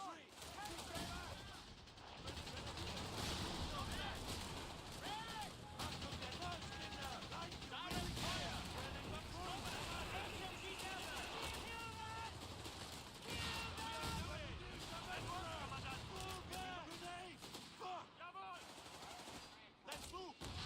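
Dense, continuous gunfire and explosions fill a video game battle, with rapid bursts and booming artillery layered throughout, while voices shout over the chaotic combat noise.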